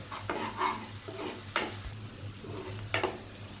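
Cauliflower with turmeric, coriander powder and salt sautéing in a pan, a soft close sizzle broken by several scraping stirs of a spatula at irregular intervals.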